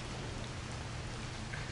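Steady rain falls in the video game The Pathless, a soft, even hiss of drops with no breaks or speech.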